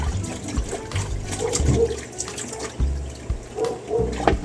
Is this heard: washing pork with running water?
yes